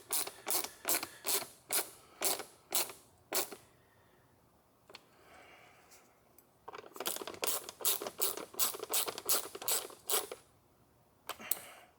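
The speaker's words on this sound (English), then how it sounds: "just keep going around with a teeny tiny ratchet so you don't strip those very delicate threads" A very small ratchet tightens screws on a Jaguar XJ V6 engine air filter housing, making a steady run of crisp, close clicks, then a brief pause with faint fumbling, then another rapid, slightly louder clicking run.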